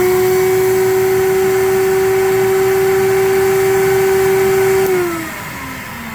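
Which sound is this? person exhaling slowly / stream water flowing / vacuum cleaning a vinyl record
vacuum cleaning a vinyl record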